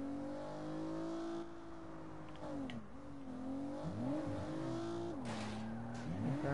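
A car in the Saints Row video game driving and revving, its engine rising and falling in pitch through repeated gear changes and accelerations, loud and continuous with a brief squeal of tires.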